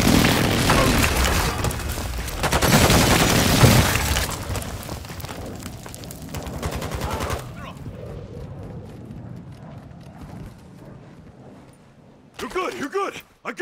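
Gunfire and explosions in the shooter game Call of Duty: Modern Warfare II, dense loud bursts and booms for several seconds, then fading to quieter rumble with a short voice near the end.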